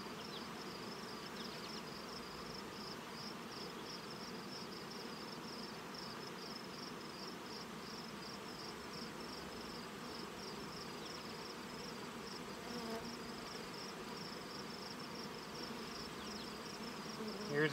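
Dense, steady buzzing of many honeybees around open brood frames pulled from a late-season nuc hive, a continuous close drone with no talking.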